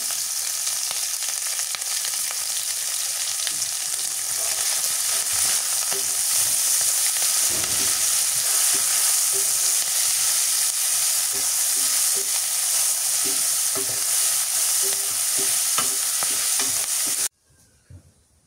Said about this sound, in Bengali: ফোড়ন মরিচ পেঁয়াজ ভাজা হয়ে গেছে